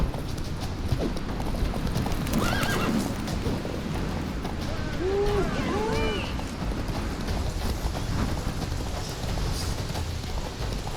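Roach, Geralt's horse in The Witcher 3, gallops with steady clip-clop hoofbeats throughout, under game music and brief shouted voices in a chase.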